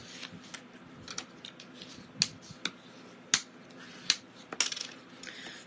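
Folded cardstock for a tri-fold card is creased by hand, producing a series of sharp, close snaps and rubs, irregularly spaced, with quiet rustling between them.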